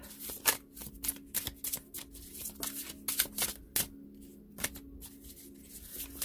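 A deck of tarot cards is shuffled by hand in a string of quick, crisp riffling bursts with short pauses between, close and fairly quiet with no talking.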